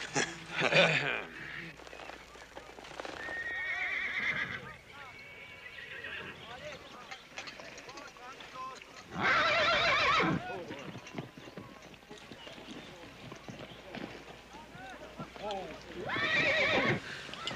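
Horses whinny loudly in several bursts amid hoof clatter during a riding lesson in a Western setting, with people talking and calling out between the neighs.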